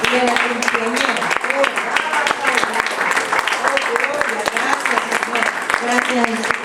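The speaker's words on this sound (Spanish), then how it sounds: "le damos un aplauso a Cristo primeramente" A church congregation claps together, with a rhythmic burst of close hand claps under voices and loud background sound.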